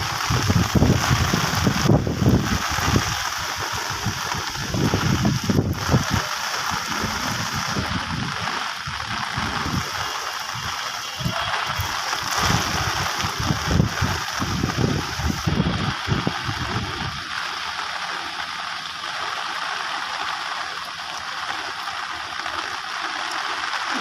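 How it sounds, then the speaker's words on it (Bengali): Rain keeps falling outdoors in a rural area during a spell of wet weather, a steady broadband hiss throughout, with a heavier, rumbling patter for most of the span before it settles into a thinner, even wash. "দেখতেছেন বৃষ্টি পড়তেছে এখনো।"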